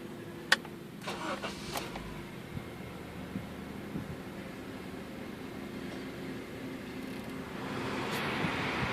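A 2008 Honda Civic LX with about 50,000 miles cranks and catches, with a few sharp clicks and a brief starter whir up front, then a steady, smooth idle that grows slightly louder toward the end, close by and without talk.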